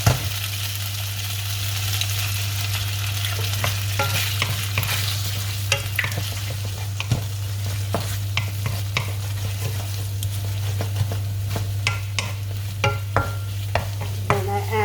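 An egg stir-fried with bacon for Thai flat noodles, steady loud sizzling under a constant low hum, with frequent clinks and scrapes of a spatula against the pan.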